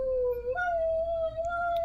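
A dog howls in one long, drawn-out wail that rises partway through, loud and close, with no talk over it.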